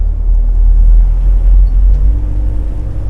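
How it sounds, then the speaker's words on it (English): Diesel engine of a Botnia Targa 25 motor boat running at low speed, a loud, steady low rumble and throb that stays constant throughout with no voices. "start the motor and you're ready to go diesel"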